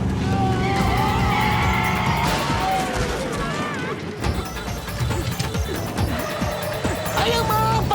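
Cartoon car speeding along with screeching, skidding tires, rising and falling squeals over engine noise, with excited cartoon voices shouting throughout.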